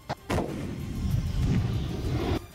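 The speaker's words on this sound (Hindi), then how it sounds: "वहां एक के बाद एक दनादन धमाके होते रहे।" Russian howitzer artillery firing in a rapid barrage, a sharp report followed by a sustained, heavy low rumble of repeated blasts that cuts off abruptly after about two seconds.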